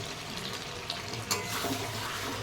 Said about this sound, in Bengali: এবার দেবো গরম জল যে পাশে বসিয়ে রেখেছি